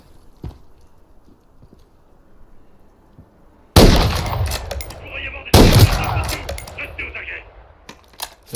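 Bursts of gunfire in the Call of Duty: MW3 campaign on a snowy sniper mission, two loud sharp volleys after a quiet stretch, each trailing into crackling echoes, with a faint voice murmuring in the lull before.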